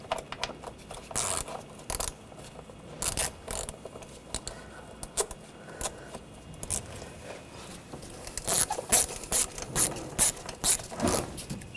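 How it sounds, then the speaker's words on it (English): A ratchet fitted with an 8mm socket loosens the hose clamp on a throttle body boot of a 2004-2012 Chevrolet Colorado 3.7L. Clicking comes in quick, irregular bursts, close and fairly crisp, with short pauses between strokes and no talking. "we're going to loosen up the hose clamp. Use a 8mm socket."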